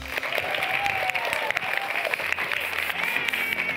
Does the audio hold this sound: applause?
yes